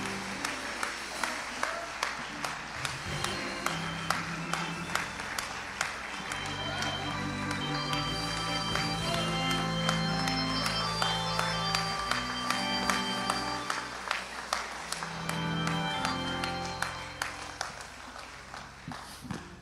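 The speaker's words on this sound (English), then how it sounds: "Again, give him a round of applause." Audience applause for the host's big brother at an appreciation event, a sustained crowd clapping that swells through the middle and tapers, with a few louder individual claps near the end.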